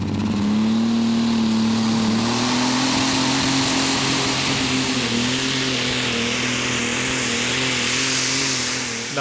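A pulling tractor at a Eurocup tractor pull in Brande, Denmark roars at full power as it hauls the sled, a loud sustained engine drone with a steady pitch that sags slightly partway through the pull.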